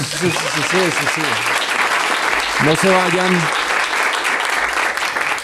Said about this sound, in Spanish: Sí, que salga el aplauso.